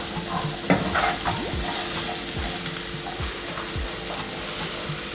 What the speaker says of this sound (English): And I'm gonna saute these for about a minute.